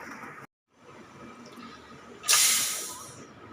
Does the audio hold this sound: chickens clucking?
no